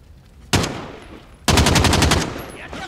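Machine gun fire in Call of Duty: Modern Warfare: a short burst, then a longer, loud, rapid string of shots in a fast regular rhythm, close and dominant.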